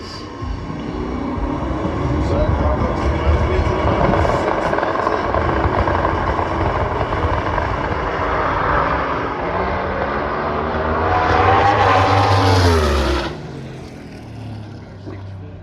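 A door slammer drag racing car in an evening qualifier at Santa Pod makes a sustained, rough-sounding roar that swells into a loud rising engine sweep, then cuts away.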